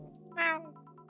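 A single short meow made by a human voice imitating a cat, close and clear over a faint steady background tone.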